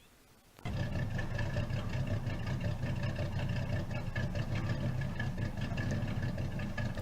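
A 550-horsepower street-legal V8 idling in the BeamNG.drive driving game, fitted to an old wagon; it starts abruptly and settles into a steady, droning, loud idle with a slightly lumpy cam-like pulse, alone without talk.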